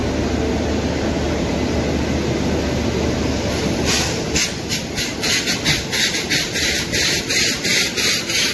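An Indian superfast express passenger train rolls along: a steady rumble and hiss, then a rhythmic clickety-clack of wheels over rail joints that grows louder and more regular, with no talking.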